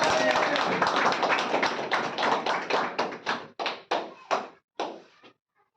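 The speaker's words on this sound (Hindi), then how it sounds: "एक बार जोरदार तालियां" Audience at a corporate celebration on a cruise ship clapping loudly together, a full round of applause that thins out into a few last scattered claps before falling silent.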